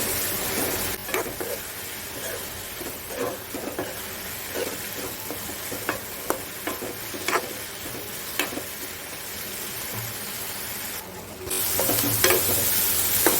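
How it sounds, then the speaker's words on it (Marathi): Ginger, garlic, chili and coriander paste sautéing in a pan on high flame while cutlet filling is prepared, with a steady close sizzle broken by regular scraping stirs and a louder burst of frying near the end. "एक टीस्पून मी आलं लसूण मिरची कोथिंबीर पेस्ट टाकले। गॅस फास्ट करून आपण चांगलं परतून घेऊया।"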